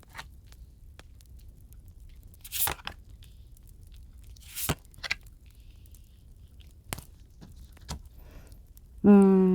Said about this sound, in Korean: 카드 오픈해 보도록 할게요